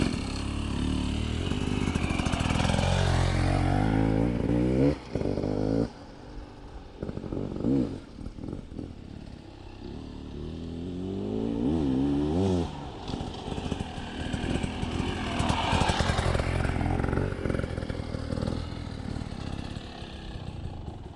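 An off-road motorcycle rides steadily, its engine note dropping and rising as the rider brakes and changes down gears, then pulls away again; close and loud throughout, with no talking.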